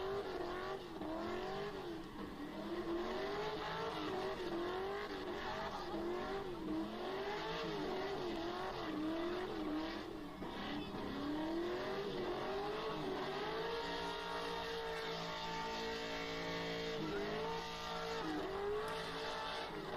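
A car doing a burnout at a burnout contest, its engine held at high revs and wavering continuously for twenty seconds, with tire squeal beneath the loud, unbroken roar.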